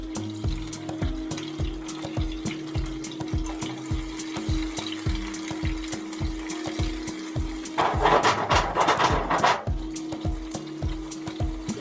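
Prawns sizzle in melted butter in a pan, a steady close frying crackle under a constant hum, with a louder burst of sputtering partway through.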